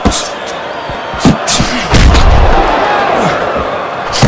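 Punches land in a boxing video game in a rapid scatter of heavy thuds and slams, with a few sharp impacts standing out over steady crowd noise from the virtual arena.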